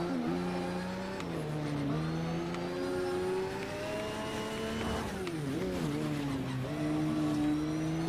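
Lamborghini racing on a dirt track in a video game, its engine note revving up and down in smooth sweeps with gear changes, steady and close throughout, without talk.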